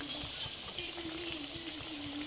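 Masala vada frying in hot oil gives a soft, steady bubbling hiss with faint crackle as the bubbles gradually die down, fairly quiet and continuous with no voices.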